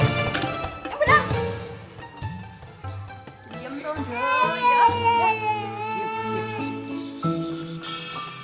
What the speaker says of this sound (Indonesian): Berisik aku ngrungokne suara bayi nangis.